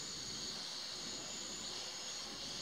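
MJX X600 drone descending to land at night, its motors and propellers giving a steady, high whining whir with a hissing rush, constant and fairly faint, no voices.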